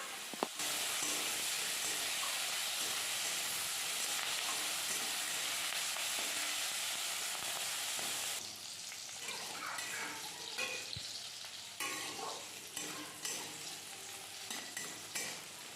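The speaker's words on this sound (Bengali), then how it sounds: "কড়াতে সর্ষের তেল গরম করে নিয়েছি এবং পেঁয়াজ কলি আর আলুটা দিয়ে ভেজে নিচ্ছি" Potato and spring onion fry in hot mustard oil in a wok, a loud continuous sizzle lasting about eight seconds that then eases into softer crackling broken by stirring scrapes and clinks.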